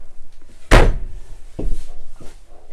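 A storage compartment door on an Imagine 2800BH travel trailer shuts with one loud, sharp slam, followed by a softer thump and a few faint knocks.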